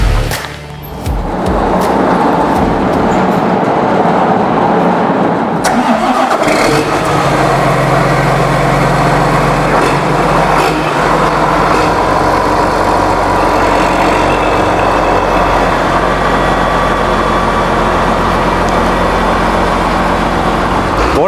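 A John Deere 8000 series tractor engine drives steadily, close and loud, with a deep sustained rumble and a slight shift in pitch as the load changes, heard alone without talk.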